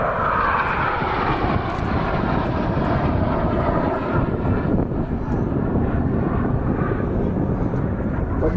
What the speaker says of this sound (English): You're so close that you can hear the jet engine noise from the man in front of you.